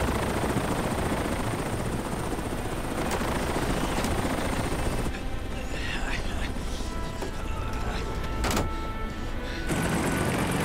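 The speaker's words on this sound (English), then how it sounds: "The helicopter's gonna leave." A helicopter in a disaster movie sound effect roars steadily with dense rotor wash, loud and close throughout, briefly dipping behind a muffled interior passage before the roar returns.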